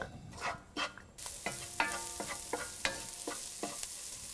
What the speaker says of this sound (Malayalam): മസാലപ്പൊടികൾ ഇപ്പോൾ വഴന്നിട്ടുണ്ട്.